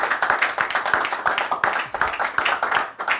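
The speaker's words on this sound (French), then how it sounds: "Est-ce qu'on peut acclamer pour la gloire de Dieu?" A church congregation claps in a brisk, even rhythm of roughly five to six sharp claps per second, many hands together at close range, steady throughout with no voices.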